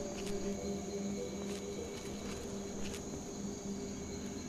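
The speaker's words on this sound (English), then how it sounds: "The crickets stop making noise." Crickets chirp steadily in a swamp in Fallout 3, a continuous insect drone with faint pulsing bursts over a low ambient hum, no talking.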